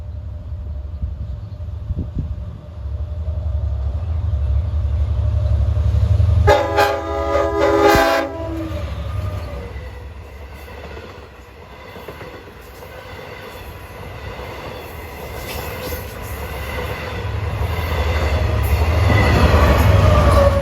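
A Long Island Rail Road Montauk Branch train with locomotive 408 leading passes with a heavy rumble of wheels. One loud horn blast sounds partway through, and the train keeps rolling by, close and steady.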